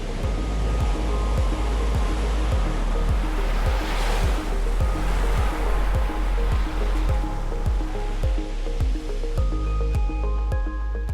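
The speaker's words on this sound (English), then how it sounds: "Fine sand and big waves" Big ocean waves breaking on fine sand at Kalihiwai Bay, Hawaii: a loud, continuous wash of surf with a deep rumble and hissing spray, steady throughout and close by.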